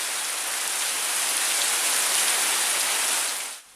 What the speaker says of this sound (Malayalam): ഒരാഴ്ചയായി ശക്തമായ മഴ തുടരുകയാണ്.